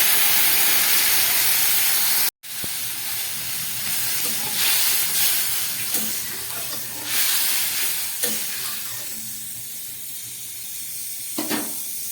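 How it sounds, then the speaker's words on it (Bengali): A fish curry broth bubbles on the stove with a continuous hissing simmer and steam, close and steady, broken by a short gap and a few faint utensil knocks. "ঝোলটা ফুটে উঠেছে"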